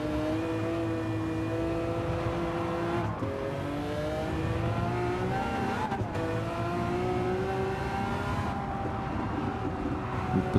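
Race car engine in the Gran Turismo 7 video game holds a loud, steady drone, with rising revs shifting through gears and brief dips at gear changes, plus faint tire noise.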